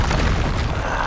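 Incendio fire spell cast in Hogwarts Legacy: a short, dense whooshing burst of flame with a deep booming rumble, loud and close, filling the whole moment without a break.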